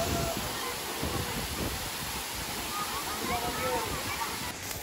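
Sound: waterfall in Samosir

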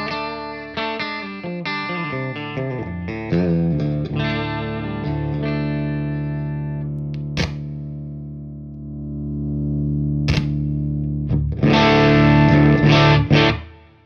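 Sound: electric guitar through op-amp boost pedal, slightly distorting

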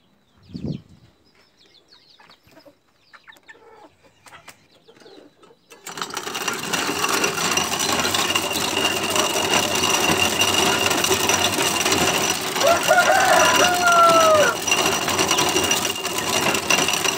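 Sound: corn grinder grinding maize

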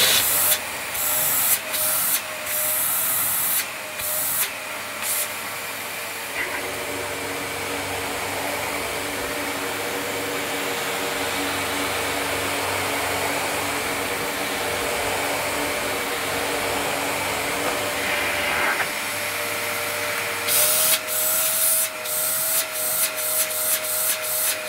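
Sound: Dyson DC33 vacuum cleaner running after refurbishment

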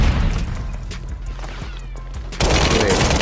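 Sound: gunfire in Call of Duty Warzone video game

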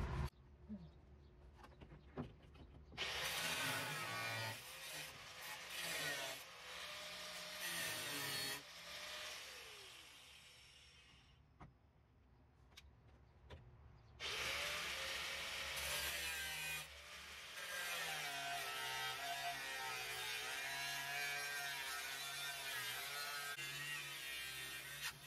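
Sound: cutting out rusted floor pan of a 1989 Mustang GT

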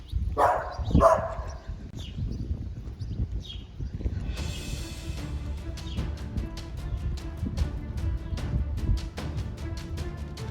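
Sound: large dog

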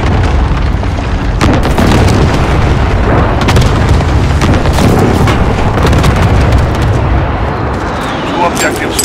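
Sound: precision airstrike explosions in video game Call of Duty Modern Warfare

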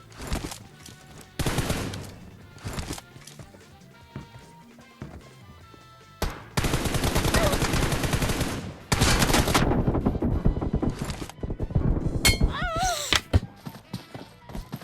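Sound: gunfire in the video game PUBG Mobile

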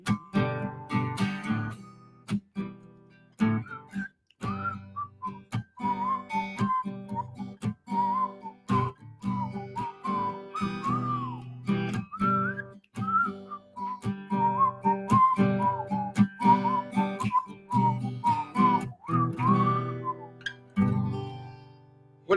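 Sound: person whistling a melody

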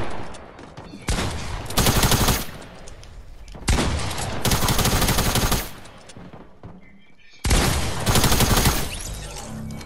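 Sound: assault rifle gunfire in a video game

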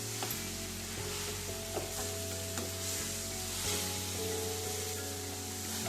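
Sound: stirring jaggery as it melts for modak filling

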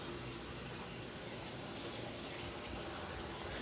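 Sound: washing machine filling with water

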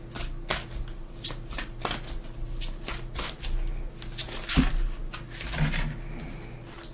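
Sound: shuffling a deck of oracle cards

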